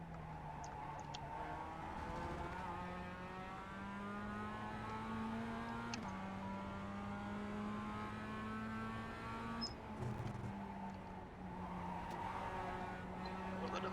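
Engine of a Mazda MX-5 race car in iRacing droning steadily throughout while the car slides through a corner, with the pitch shifting as it changes gear and a faint tyre scrub under the engine note.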